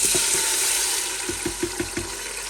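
Tomatoes fry in plenty of oil for chicken biryani, giving a steady hiss of sizzling with a run of soft rhythmic stirring knocks toward the end.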